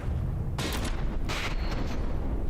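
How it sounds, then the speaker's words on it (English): Mortar fire in the From the Depths battle game comes as a couple of sharp, loud blasts in quick succession over a constant rumbling backdrop of combat noise. "Mortars actually reached their mark here."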